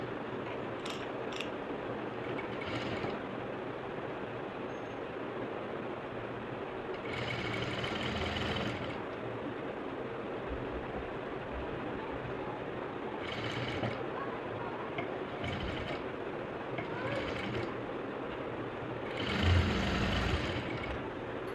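A domestic sewing machine runs in steady stretches, tacking a temporary stitch along a blouse hook strip, its even mechanical whir continuous and close with brief louder surges.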